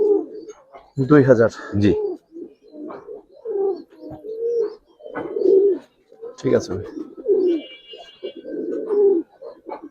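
Khaki pigeons kept by a pigeon seller cooing in short, throaty bursts at close range, interleaved with someone speaking about the birds and their price.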